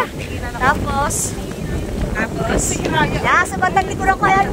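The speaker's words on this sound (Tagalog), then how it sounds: "Sarap na hangin dito." Sea breeze at a seaside windmill park buffeting the microphone in low rumbling gusts, steady and loud, with people talking over it throughout.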